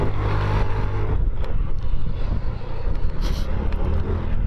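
A Zontes 350 E motorcycle engine pulls hard up a hill on a test ride near Naples, its steady, loud drone rising and falling slightly, with no voices.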